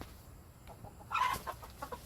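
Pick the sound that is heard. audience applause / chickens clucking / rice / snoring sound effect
chickens clucking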